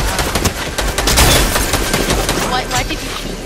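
Rapid bursts of automatic gunfire from the video game Fortnite rattle continuously and loudly, packed with overlapping shots.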